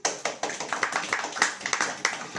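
A congregation claps hands along in rhythm at a Hindi-language church sermon, a steady run of sharp, fairly close claps repeating every quarter second or so without talk.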